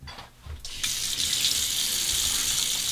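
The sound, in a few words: running hot tap water for warming the face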